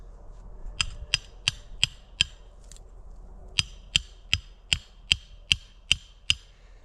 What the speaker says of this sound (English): so let's hammer that in